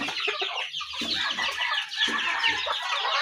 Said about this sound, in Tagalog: Yan, yung ating mga manok mga kaibigan.